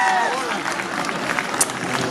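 Applause from an audience for children at a fifteenth-anniversary celebration of the Alliance Française in Armenia, a steady wash of clapping that runs throughout, with a faint speaking voice and a few whistle-like tones early on.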